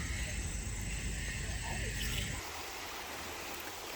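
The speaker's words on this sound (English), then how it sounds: "we can see some water coming down from here, some water coming down from there" Steady broadband water rush of a nearby stream trickling and splashing, loud at first, then softer and more distant after a couple of seconds.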